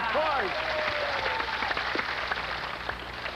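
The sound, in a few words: studio audience cheering and applauding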